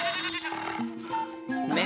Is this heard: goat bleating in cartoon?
yes